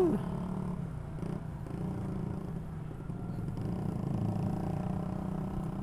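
Suzuki Satria FU motorcycle engine idling with a low, steady rumble close by, holding a fairly even level throughout.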